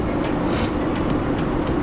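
Tram running along a Dubai street, a steady loud rolling rumble throughout with a brief brighter swell of wheel and rail noise near the middle, no voices.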